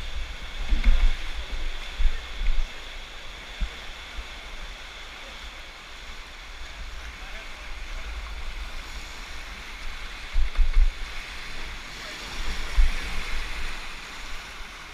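Whitewater rapids churn on Clear Creek during a rafting trip, a continuous rushing roar of water with periodic surges and splashes against the raft, and faint voices in the background.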